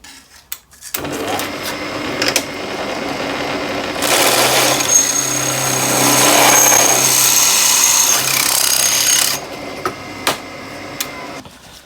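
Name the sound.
pedestal drill drilling metal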